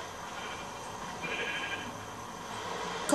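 A sheep in the video game Minecraft bleats with a drawn-out, wavering call at moderate volume over a low, steady background hum, with no voices heard.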